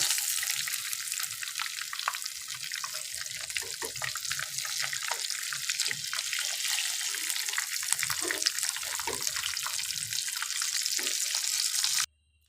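KFC-style chicken pieces fry in hot oil, giving a dense, steady bubbling hiss with scattered pops that runs for about twelve seconds and then cuts off abruptly.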